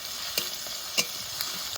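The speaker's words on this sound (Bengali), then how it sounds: "রসুন আর কাঁচা লঙ্কা একটু ভালো করে ভেজে নেবো।" Garlic and green chillies fry in mustard oil with a faint, steady sizzle, broken by a few sharp scraping clicks from a stirring utensil.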